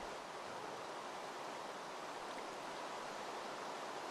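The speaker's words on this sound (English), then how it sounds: "In through the waterfall" A waterfall in a Minecraft recreation of the Tomb Raider 3 jungle level gives off a constant, even rushing hiss of falling water, steady and unbroken throughout.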